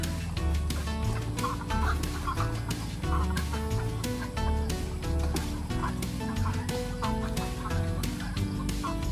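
Laying hens on a poultry farm being shifted into steel cages at dusk: a dense, loud chorus of clucking and squawking fowl close by, continuous and busy, with sharper individual calls poking out of the crowd.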